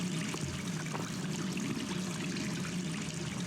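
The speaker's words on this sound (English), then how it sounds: "I'm not sure why this particular faucet is so much louder than all the rest of them." A running faucet in the video game Gone Home gives a steady, fairly loud stream of water splashing continuously, with no voices.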